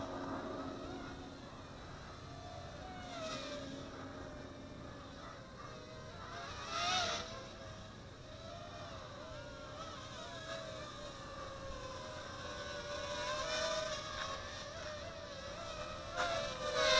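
A Lian Sheng LS215 inverted quadcopter drone flies outdoors on a breezy night, its steady whining buzz rising and falling in pitch as it moves, with brief louder surges throughout and no talking.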